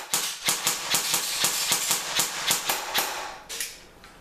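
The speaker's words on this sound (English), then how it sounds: "So we'll now fire these off and see how these speed BB-wise." Airsoft M4 rifle fed from Ares Amoeba magazines firing BBs in a steady rapid string of about fourteen sharp, loud, close shots, then stopping.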